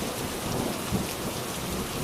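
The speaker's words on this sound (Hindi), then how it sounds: "बारिश शुरू हो गई।" Heavy rain pours steadily in a cartoon village scene, a dense, continuous hiss of downpour with no breaks, loud and close throughout.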